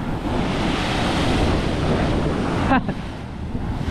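Ocean waves surge and rush steadily with heavy wind buffeting the microphone, loud and close, broken by a brief sharp noise near the end.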